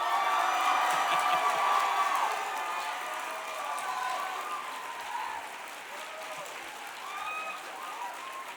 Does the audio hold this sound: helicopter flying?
no